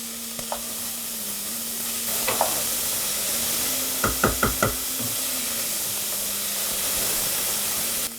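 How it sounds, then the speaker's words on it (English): Onions frying in a pan while being cooked down give a steady sizzle, punctuated by a few sharp knocks of a utensil against the pan. "So all I'm going to do is let this cook down until the onions are translucent"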